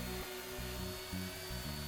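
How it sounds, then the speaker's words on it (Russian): An electric chainsaw runs steadily with a quiet, even motor whine and hum that pulses slightly in rhythm, with nothing else heard over it. "электропила в разы менее шумная, чем бензопила"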